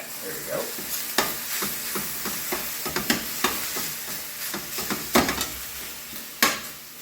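Meat sizzles and fries in a pan for green chile enchiladas while being stirred, a dense steady hiss broken by repeated scraping clacks of the utensil against the pan, close and fairly loud with no voices.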